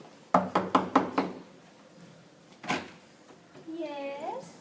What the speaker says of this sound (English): We'll knock on her door.